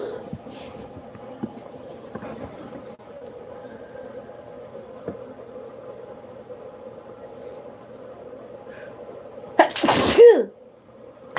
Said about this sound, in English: When I begin to sneeze, my ears start ringing.